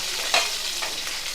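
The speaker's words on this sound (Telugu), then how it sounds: "ఇదిగోండి కొంచెం వేగుతున్నాయి కదా ఇలా వేగుతున్నప్పుడే మనం ఆనియన్స్ కూడా వేసేసుకుందాం" Mutton keema and onions fry in a pan with a dense, steady sizzle, close and fairly loud, broken by one brief stirring scrape near the start, with no voices.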